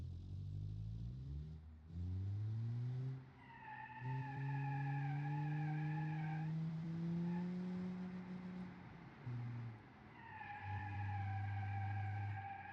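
A 1974 family car in a racing video game brakes hard and skids, with long sustained tire squeal over a steady engine drone that lasts through the clip, loud and close, with no talk.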